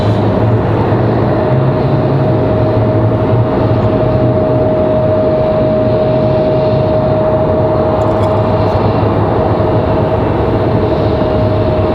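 An ATR turboprop airliner at Raleigh-Durham International Airport, a steady broad engine roar with a sustained propeller drone tone holding loud and constant throughout, with no talk.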